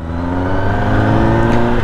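A Kawasaki ZX10R superbike engine runs loud and close, holding a strong, steady, buzzing harmonic drone with a slight rising rev near the end.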